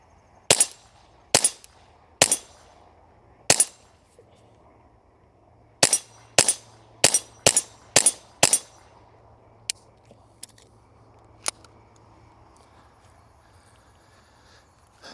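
Handgun shots fired about 25 yards away at a dark target figure during a night shooting demo: around ten sharp, loud reports spaced unevenly over fifteen seconds, a quick cluster in the middle, then a few fainter cracks.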